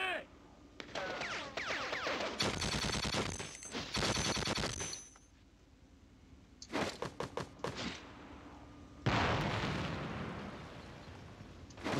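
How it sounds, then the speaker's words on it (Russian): Bursts of gunfire and explosions from the video game Conflict: Desert Storm come in loud rapid volleys separated by quieter gaps, ending with a heavy blast. "Стреляют."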